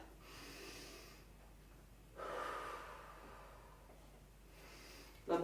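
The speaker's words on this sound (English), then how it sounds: "Big breath." A big, audible breath during a guided breathing exercise: a soft breathy inhale, then a louder rushing exhale in the middle, then another quieter breath, close and alone.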